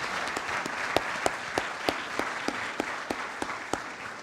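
A crowd at a military change of command ceremony applauds, steady dense clapping with a few sharper individual claps standing out, fairly distant and even throughout.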